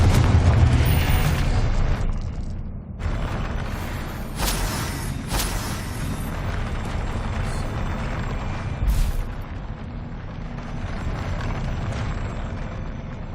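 Confringo fire spell explosions in the video game Hogwarts Legacy: loud, near booms and blasts with sharp bursts scattered through a continuous rumbling battle din, no talking.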